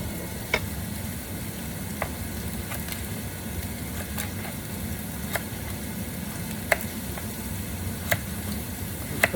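Onion frying in a pan for a ground beef and cabbage dinner, a steady close sizzle throughout with scattered small pops and ticks from the hot oil.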